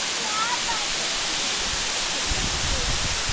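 A large waterfall roars nearby in a continuous, dense broadband rush that stays loud and unbroken, with a few faint deeper thumps toward the end.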